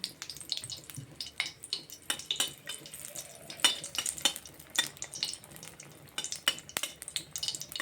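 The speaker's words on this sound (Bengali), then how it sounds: "এখানে নিয়েছি শুকনো লঙ্কাটা প্রথমে একটু ভেজে নেব" Dried red chillies fry in oil in a cooking pan, with a low sizzle under repeated sharp scrapes and clinks of a utensil stirring against the metal.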